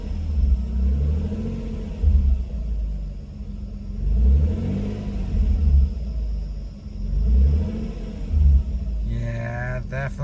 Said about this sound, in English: so maybe just let's give it some revs.